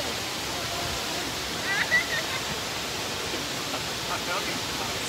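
The waterfall at Wah Fu, Hong Kong, gives a steady, even rush of falling water, with a few faint sounds briefly rising over it.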